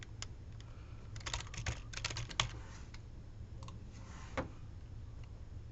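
Username and password typed on a computer keyboard, a quick run of close, soft key clicks in bursts with brief pauses, over a low steady background hum.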